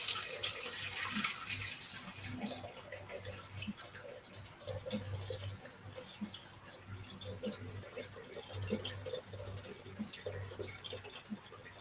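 About 1000 grams of water is poured into a container while making agar-agar gula melaka (palm sugar jelly). It is a faint, continuous trickling stream with a low hum underneath, lasting throughout.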